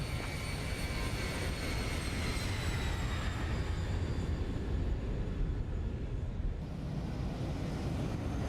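Boeing 737 airliner climbing after takeoff in the X-Plane 12 flight simulator, a loud, steady cockpit roar of engine and airflow with faint high whining tones slowly falling in pitch.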